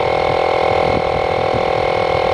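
A Makita MP100DZ cordless air pump running to build pressure, a loud, steady close-up motor drone with a strong tonal hum and fast rhythmic pulsing, with no voices.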